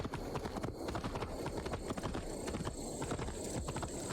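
Horse hooves clip-clop at a gallop in the Assassin's Creed Valhalla video game, a steady rapid drumming under a dense bed of game sound, with no one talking over it.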